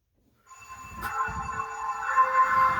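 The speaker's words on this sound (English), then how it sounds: "We'll have the train run by with the sound on." A small model train rumbles along steadily on a layout with faint rhythmic clatter, its running hum building slightly louder toward the end.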